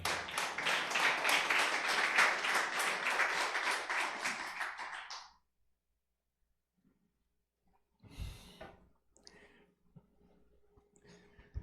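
Church congregation giving a loud round of applause to the Lord, dense clapping for about five seconds that cuts off into silence, followed by faint scattered sounds and some movement.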